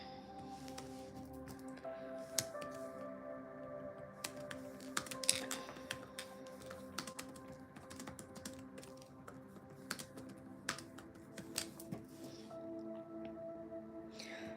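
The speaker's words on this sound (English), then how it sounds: "I used to hate typing so much, but now I'm kind of getting used to it" Someone types on a computer keyboard in a quiet room, irregular soft clicks and taps scattered across about fifteen seconds under a faint background hum, with no speech.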